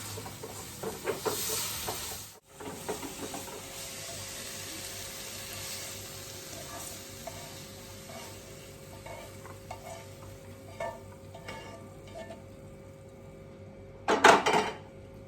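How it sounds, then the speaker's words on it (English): Carrot slices frying in vegetable oil in a pan with garlic and sesame oil, a steady close sizzle with occasional stirring scrapes and a sharp utensil clatter near the end. "I used some vegetable oil. I put some carrot in it."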